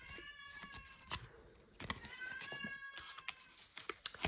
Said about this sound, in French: j'ai ma petite chatte qui fait que miauler parce que c'est pas la bonne période pour elle